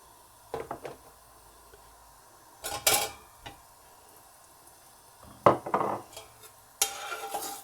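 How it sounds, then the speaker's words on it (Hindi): Intermittent scraping and clinking of a utensil against a pan as flour roasts in ghee, in short irregular bursts separated by quiet moments, close by. "अब आटे को घी में भून लेंगे"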